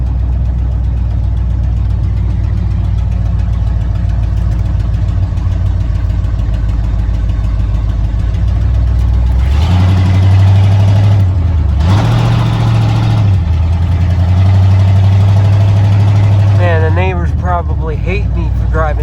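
A 1987 Ford Bronco XLT V8 idling rich: a steady, loud low rumble throughout, with a rev-like rise in the middle, and voices talking over the engine near the end.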